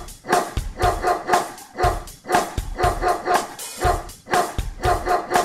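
Cartoon-style dog barks punctuate a children's nursery rhyme about a farmer's dog, a quick run of loud yaps repeating in rhythm over bouncy music.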